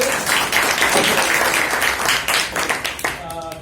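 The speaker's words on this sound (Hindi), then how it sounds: "हम लोग सभी जोरदार ताली के साथ राधे सर का स्वागत करते हैं" An audience at a PAN card and GST training session applauds to welcome the trainer, with loud dense clapping that tapers off at the end as a voice begins.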